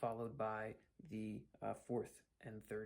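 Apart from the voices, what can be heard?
None of the usual background noises is heard.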